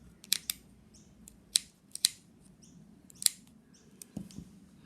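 Scissors snipping and wiggling between two pieces of cardboard while making a yarn pom-pom, a handful of short, crisp clicks and snips spaced irregularly, close and fairly quiet over a soft background hum.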